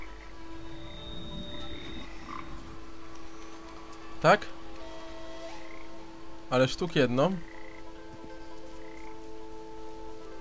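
Frog croaks in the video game Papo & Yo: a sharp single croak, then a quick double croak a few seconds later, over a quiet humming game backdrop while someone speaks briefly.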